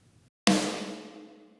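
A single dry snare drum hit with a dirty, gritty tone, EQ-boosted to ring out, lands sharply and then decays over about a second with an audible resonant ring.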